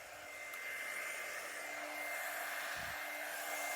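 A Lifelong hair dryer runs steadily with a constant broadband whoosh and a faint motor whine, close and fairly loud throughout, with no talking.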